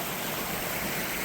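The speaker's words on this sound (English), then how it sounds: "Here's a waterfall to our right" A trailside waterfall flows on the Double Run Trail, a dense, steady rush of falling water filling the whole short stretch at a constant, fairly loud level.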